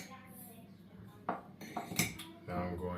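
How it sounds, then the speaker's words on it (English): Dried dandelion root pouring into a metal tea strainer set inside a teacup, giving light rattling clinks and scraping taps in a few short bursts over a steady background hum. "I'm going to pour the dandelion root into the tea strainer."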